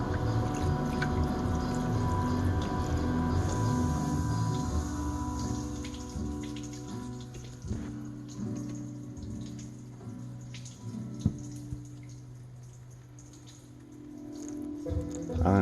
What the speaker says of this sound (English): I'm gonna take my water and just start pouring it right in here and let this thing fill up